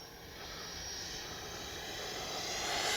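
Freewing Avanti S V2 radio-controlled jet at three-quarter throttle, giving a steady, airy hiss and whine that grows slightly louder over a few seconds. The model is fairly distant and no one speaks.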